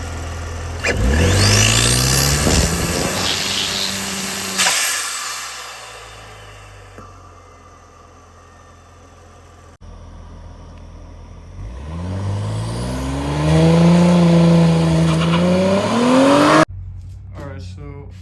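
A B9 Audi S4 with a newly installed downpipe starts and revs hard, drops to a low idle, then climbs through several rising, rasping revs before cutting off sharply, heard up close.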